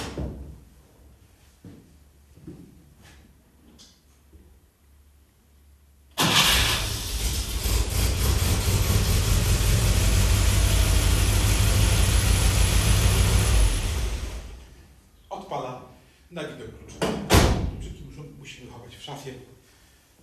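A cold Skoda 105 engine starts and runs loudly for several seconds before cutting off, with quiet clicks and talking before and after.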